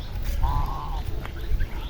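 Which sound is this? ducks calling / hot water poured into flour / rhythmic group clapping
ducks calling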